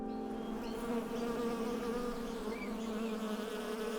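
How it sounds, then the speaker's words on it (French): Bees buzz steadily and close among almond trees and lavender in Provence, a dense continuous drone with no talking. "il y a des abeilles."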